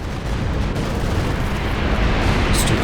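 Stuka dive bomber strafing with anti-tank rockets in a real-time strategy game, heard as a dense, continuous rumble of blasts and booms filling the whole stretch, loud and steady with no talk.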